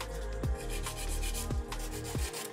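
A 180-grit nail file works a fingernail near the cuticles, giving a steady close rasp with a few sharper strokes recurring about once a second.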